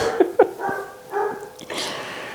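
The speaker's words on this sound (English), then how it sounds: "Noisy dogs, what happens?" Several dogs bark in quick, uneven bursts nearby, with sharp yaps and softer whimpering barks in between.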